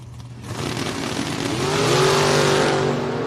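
Drag race launch with a big Mopar in the left lane against a factory-hood Nova in the right, engines roaring and rising in pitch as the cars pull away, loud and sustained with no talk over it.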